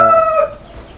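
A single loud Brahma rooster crow, close by, trailing off after about half a second into quiet.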